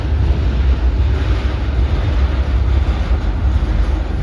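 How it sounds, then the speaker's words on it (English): A loud, steady low rumble and roar fills the whole stretch as a heavy tram rolls close by in Belgrade, Serbia, with no voices. "Are you ready for the loudest tram in all Europe?"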